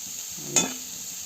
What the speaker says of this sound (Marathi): कांदा पण आपला फ्राय होतो आहे